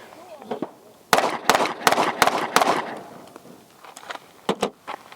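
Pistol shots from a SIG P365 AXG Legion on an outdoor range: a rapid string of five sharp, loud cracks in quick succession, then a pause and two or three more shots, with faint background noise between.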